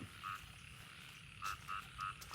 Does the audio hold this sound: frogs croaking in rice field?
yes